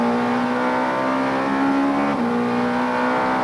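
Super touring cars, a BMW among them, race side by side on a circuit in the 1998 STW championship, engines wailing loud and steady with a sustained high-revving drone and a brief dip in pitch as they shift.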